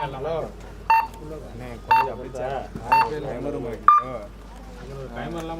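Short electronic timer beeps at an outdoor kabaddi match, four evenly spaced tones about a second apart, each clear over steady crowd chatter and nearby voices talking.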